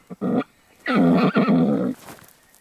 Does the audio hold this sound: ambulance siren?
no